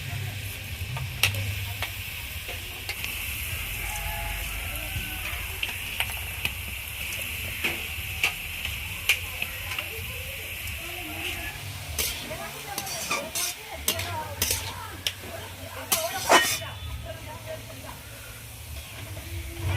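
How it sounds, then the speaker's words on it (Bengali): Onions fry in hot oil for biryani beresta, a steady broad sizzle with occasional stirring scrapes and clinks running throughout, close and moderately loud with no voice over it. "এই যে বিরিয়ানির জন্য পেঁয়াজগুলো বেরেস্তা করতে দেবো, তার জন্য পেঁয়াজগুলো আগে ভেজে নিই।"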